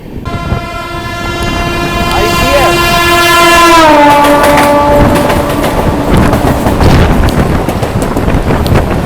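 An EMD diesel locomotive passes close by on an Indian railway line. Its loud horn drops in pitch as it goes by, followed by a heavy, steady rumble of wheels and engine, with wind buffeting the microphone.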